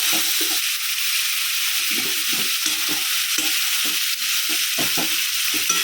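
Sprouted moth beans stirred in a sizzling pan, a constant bright frying hiss with a series of rhythmic scraping strokes from the spoon, close and steady throughout.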